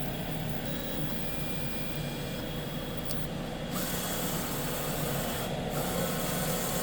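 A Roland SP-540V printer's scan motor running a test pass, a steady mechanical whir and rubbing hum with the carriage sweeping along, faint and continuous with a couple of brief changes in tone.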